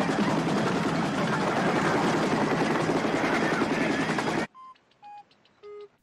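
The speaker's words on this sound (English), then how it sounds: "Oh, is this just a helicopter?" A loud, dense helicopter rotor roar from the film Close Encounters of the Third Kind fills most of the clip, then cuts off abruptly, followed by three short electronic beeps at different pitches.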